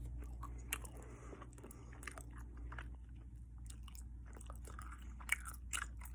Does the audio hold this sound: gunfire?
no